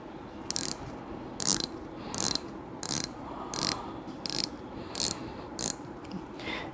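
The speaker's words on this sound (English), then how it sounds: "that's the sound of the bezel turning" A Steeldive SD1970 dive watch bezel being turned close up, giving a steady series of about eleven firm, crisp clicks in short bursts, evenly spaced and fairly quiet.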